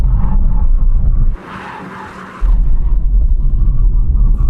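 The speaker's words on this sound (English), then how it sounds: "We're going to do a brake test from 100 miles an hour." A BMW 3 Series Touring brakes hard from 100 mph, tyres skidding with a loud rumbling roar that briefly gives way to a harsher hissing scrub before the heavy road rumble returns.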